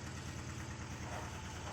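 A small engine idles with a steady low rumble and faint rattling vibration, fairly quiet and continuous.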